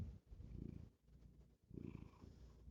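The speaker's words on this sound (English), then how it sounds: "my cat, I'm sorry, listen to this" A domestic cat purrs close by in a steady, rhythmic low rumble, swelling and fading in two clear waves with a brief lull between, heard alone without any talking.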